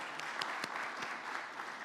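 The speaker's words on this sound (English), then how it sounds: "Ladies and gentlemen, please join me in a very warm applause for this panel." Audience applauding a panel at a tourism ministerial forum: steady, dense clapping from a crowd, moderately distant and even throughout with no talk over it.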